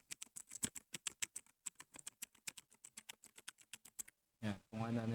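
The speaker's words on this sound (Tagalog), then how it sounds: "dahil mechanical keyboard siya, yung every time you press the keyboard, syempre iba yung tunog, no?" Typing on a Blazer K620 mechanical keyboard, a quick run of sharp, close key clacks in an uneven rhythm, followed by a brief pause and then a short burst of voice.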